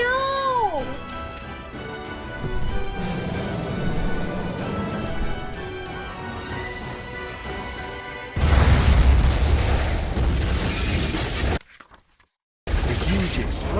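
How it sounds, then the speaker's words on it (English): A huge explosion sound effect from an impact in an attic erupts as a sudden loud, dense blast after a tonal musical passage, holds for a few seconds, then cuts to brief silence before the sound resumes. "A huge explosion from the impact drowned out everything else in the attic."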